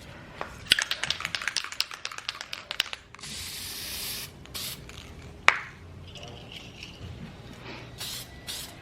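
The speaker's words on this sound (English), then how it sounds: "as per the directions, I'm gonna do a light coat and I'm gonna leave it to dry for about 15 minutes." Castin' Craft resin spray goes on in a light coat: quick rattling clicks of the can being shaken, then several short hissing bursts of aerosol at close range, separated by pauses.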